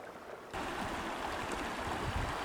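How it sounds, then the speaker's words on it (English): Crown Creek's stream water in Blue Canyon, Blackcap Basin, rushing and burbling, jumping suddenly from quiet to a steady, close, full flow. "And here's the mighty Crown Creek."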